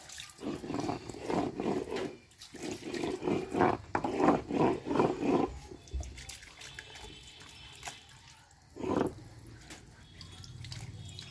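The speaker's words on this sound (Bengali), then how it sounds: "আমার শুটকি ভর্তা হওয়ার পর পাটাটা ধুয়ে নিচ্ছি" Water splashing and running over a stone grinding slab (shil pata) as it is rinsed after grinding dried-fish paste, arriving in close, irregular bursts of pouring and scrubbing that ease off into quieter trickles.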